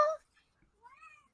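A person gives a short, rising meow-like vocal imitation of a cat in a tabletop game session, faint and brief after a burst of speech.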